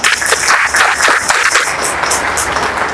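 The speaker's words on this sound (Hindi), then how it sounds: "तो अपने लिए एक बार जोरदार ताली बजा लो" An audience claps loudly at a network business leadership training session, a dense burst of applause that carries on for several seconds with no talk.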